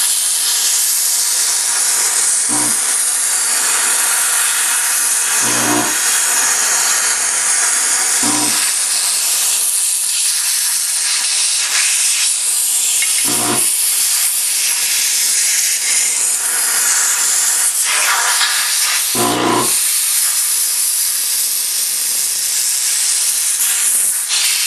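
A steam cleaner hisses loudly and continuously as it sprays a gun, a steady harsh jet of steam with a few brief low knocks and bumps from handling along the way.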